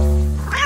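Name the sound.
cat meowing in a cartoon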